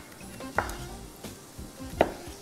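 A knife slices garlic cloves thinly on a cutting board, giving two crisp, close cuts about a second and a half apart over a quiet kitchen background.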